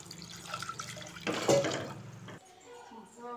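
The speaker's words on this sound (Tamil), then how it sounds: "தேவையான அளவு தண்ணி சேர்த்துக்கலாம்." Water is poured into a pot while cooking lemon rasam with salt and spices, a splashing burst of about a second that rises over faint background talk and then fades out.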